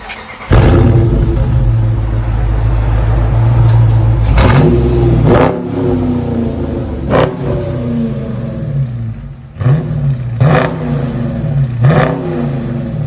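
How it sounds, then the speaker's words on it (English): A 2019 Dodge Challenger R/T HEMI V8 with stock exhaust revs loudly several times, each blip rising and falling before dropping back to a rumbling idle, close and deep-sounding. "2019 Dodge Challenger RT. This is what it sounds like before we do any exhaust to it."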